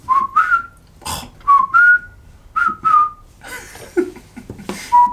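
A man whistles in short bright melodic phrases, loud and close, broken by brief pauses and a few small breaths or mouth noises.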